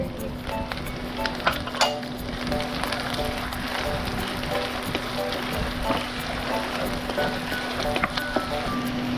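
Garlic sizzles in a hot pan for Filipino lumpia with tokwa't baboy, a steady crackling fry under faint kitchen hum, with a few sharper pops and no talk.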